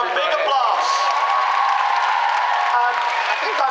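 Audience applause at a comic convention Q&A session, a loud crowd clapping and cheering while a voice talks over it, continuous for a few seconds.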